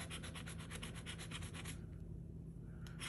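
A scratch-off lottery ticket, a 200X The Cash game, scratched with quick, steady rubbing strokes for about two seconds, close up, before the scraping stops and only a faint rustle remains.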